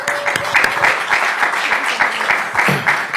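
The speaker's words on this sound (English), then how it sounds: "we'll give them a round of applause." Conference audience at the 2023 EarthX event applauds panelists, steady crowd clapping of moderate loudness with individual claps audible throughout the room.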